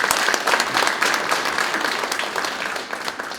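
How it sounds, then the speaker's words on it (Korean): Sustained applause from a seated audience at a panel discussion on fishing boat safety, dense and steady clapping that holds at an even level throughout. "여러분 큰 박수 보내주십시오"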